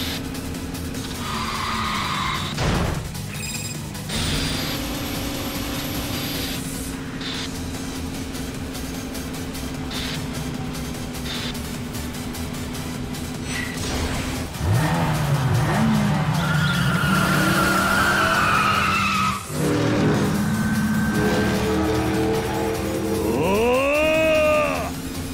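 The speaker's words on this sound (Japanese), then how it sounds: "アクセル全開" Race car engine revving hard at full throttle in the Yakuza 5 Remastered street race, with screeching tire skids and rising engine whines, loud and continuous over game music.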